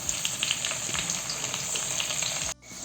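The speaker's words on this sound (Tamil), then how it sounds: "வதங்கினோன்னே இப்போது குடமிளகாவை போட்டலாம்" Onion and capsicum sauté in a pan for chilli chicken, a close, even sizzle with light spatula clicks that cuts off abruptly near the end.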